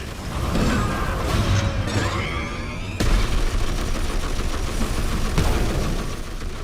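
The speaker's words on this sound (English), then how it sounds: "She's a massive mech with Gatling guns for arms that do things like this Gatling barrage" A massive mech fires a Gatling gun barrage in the video game Dawn of War III, a dense, loud, continuous roar of rapid gunfire and explosions with sharp bursts partway through.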